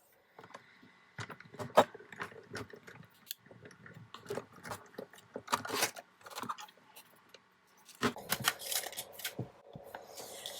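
Paper is snipped and trimmed by hand, a busy string of small crisp cuts, rustles and clicks close to the microphone, pausing briefly before a denser burst of cutting near the end.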